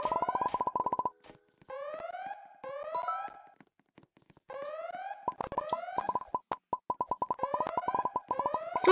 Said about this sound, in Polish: Jakiś alarm słychać.